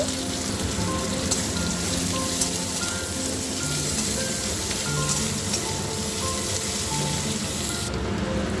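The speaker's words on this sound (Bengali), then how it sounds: "এবারে আমি দুটো বড় সাইজের পেঁয়াজ কুচানো এর মধ্যে দিয়ে দিলাম হালকা করে নাড়াচাড়া করে নেব" Two large chopped onions frying in a green chili tempering, a continuous close hiss of sizzling oil that stays steady and even throughout, with no voices.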